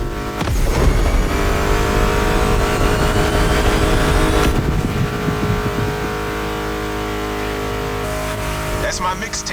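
Car engines rev and roar in The Crew Motorfest, a loud, close engine swell that builds and then holds at a steady drone over a background music soundtrack, with tire noise and voices present.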